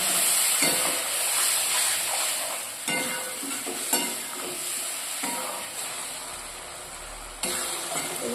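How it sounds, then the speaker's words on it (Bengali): Poppy seed and mustard paste fry in a wok with the spices, a steady loud sizzling hiss broken by repeated scraping stirs and occasional clanks of the spatula against the pan. "এই পোস্তর মশলা কষা হচ্ছে"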